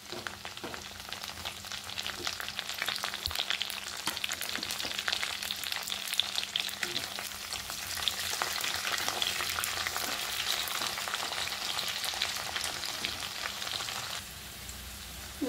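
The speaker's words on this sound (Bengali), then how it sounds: "দিয়ে দেবো কয়েকটা কাঁচা লঙ্কা," Green chillies and chopped garlic frying in oil, a close, steady hiss and crackle with frequent spits and stirring scrapes, dropping slightly in the last moments, no one speaking.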